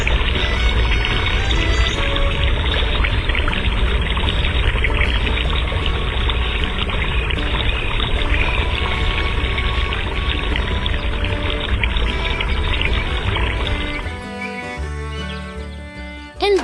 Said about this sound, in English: Listen to that gentle rush of water.